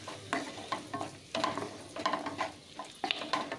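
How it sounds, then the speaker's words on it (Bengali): Broccoli and mixed vegetables are stirred in a pan with sauces, turmeric and Kashmiri chili powder, giving a soft sizzle and irregular bursts of scraping and stirring, fairly close and without talk. "এবার একটু কষিয়ে নিচ্ছি সসগুলোর সাথে সবজি আর হলুদ কাশ্মীরি মির্চি পাউডারটাকেও"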